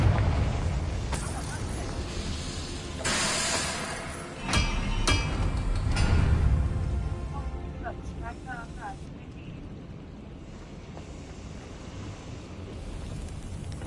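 A Confringo fire spell in Hogwarts Legacy goes off as a loud, close burst with a rumbling boom, followed by crackling spell effects and game ambience beneath a speaking voice.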